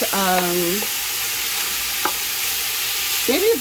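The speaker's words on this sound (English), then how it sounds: "give that a really good stir" A spoon stirs a cooking pot with soft scraping and a faint simmer underneath, brief voiced sounds near the start and end over a steady background hiss.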